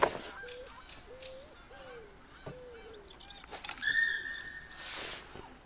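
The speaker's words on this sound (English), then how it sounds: "your geese flying over." Geese honking as they fly over, a series of distinct nasal honks at moderate distance against a quiet outdoor background, with a few higher calls layered in toward the end.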